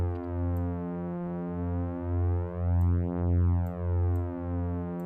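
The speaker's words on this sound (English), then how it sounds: "What you're hearing is referred to as a beat frequency," Two slightly detuned synthesizer oscillators blended together, a steady sustained tone whose loudness swells and dips in a slow regular beating pulse, about once every half second, clear and alone.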